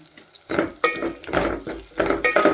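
Potato pieces stirred in ghee in a pot while cooking kichidi: a few scraping, clattering stirs with soft sizzle, close and moderately loud, no voices.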